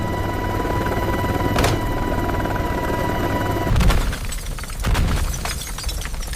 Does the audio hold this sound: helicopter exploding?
yes